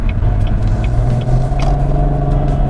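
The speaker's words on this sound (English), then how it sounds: "And that sound is amazing for a 6-cylinder." A 2016 Cadillac ATS-V's turbocharged six-cylinder engine rumbles steadily from inside the car under acceleration, a deep continuous drone with road noise and no talk.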